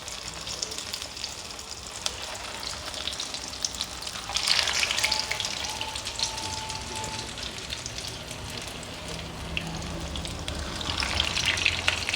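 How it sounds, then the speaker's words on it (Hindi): Potato kebabs shallow frying in hot oil, a steady dense sizzle and crackle that swells louder partway through and holds without voices. "हम इसको शैलो फ्राई करेंगे।"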